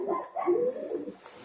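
A blue female racing pigeon coos close by, a short run of soft, throaty, wavering calls with no talking over them.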